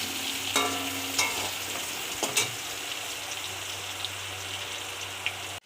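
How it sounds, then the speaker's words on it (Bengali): Potatoes fry in a pan with a steady background sizzle, broken by a few sharp stirring knocks near the start and a low steady hum underneath. "এবার আমি আলুটা ভেজে"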